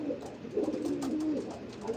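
Pigeons coo inside a loft, with a steady stream of soft, throaty calls that overlap and swell in the middle, close and moderately loud, and no talking.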